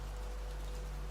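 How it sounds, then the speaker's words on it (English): Rain pattering on old cottage window glass, a faint, even hiss of drops over a low steady hum, with no voices. "If you listen closely, the rain has more than one voice"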